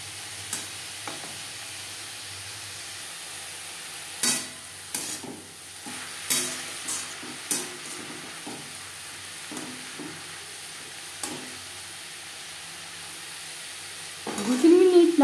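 Brahmi greens frying in a pan for shak bhaja while being stirred: steady soft sizzle under scattered scraping strokes of a spatula, a few louder stirs in bursts, with a brief voice near the end.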